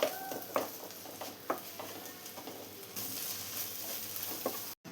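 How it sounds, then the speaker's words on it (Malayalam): Tomatoes sautéing in a pan for an egg kurma, with a moderate sizzle under a series of spatula scrapes and stirring knocks, fairly close and without speech. "ഇനി ഈ തക്കാളി നന്നായി തന്നെ ഒന്ന് വഴറ്റിയെടുക്കാം."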